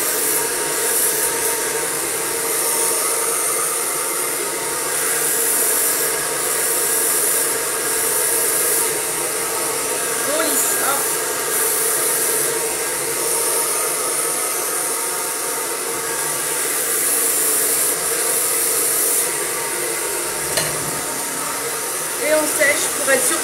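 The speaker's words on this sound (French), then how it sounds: "Je hurle quand le sèche-cheveux est allumé." Steady, loud hair dryer whir runs throughout a blow-dry for smooth, frizz-free hair, with faint talk underneath and a brief dip near the end.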